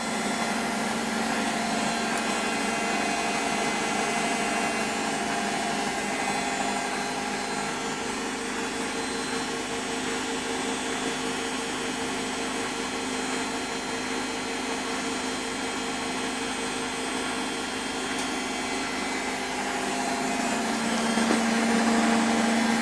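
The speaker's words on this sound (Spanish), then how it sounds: "a 1000 revoluciones por hora. La verdad que es un motor silencioso" Balay washer-dryer on its spin cycle at 1000 rpm, the motor giving a steady, fairly quiet mechanical whir with a constant hum, running alone and unchanging throughout.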